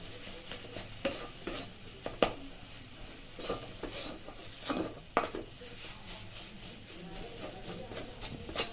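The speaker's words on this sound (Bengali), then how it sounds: "এরপরে ভালো করে আবার নাড়িয়ে দেবো" A spoon scrapes and taps in a pan while a grated coconut and milk powder mixture for narkel naru sweets is stirred, with irregular soft clinks and scrapes over a faint sizzle and no talk.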